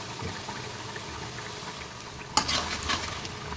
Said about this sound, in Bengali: এবার উপর থেকে একটু জিরে গুঁড়ি ছড়িয়ে দিয়ে নেড়ে চেড়ে নামিয়ে নেব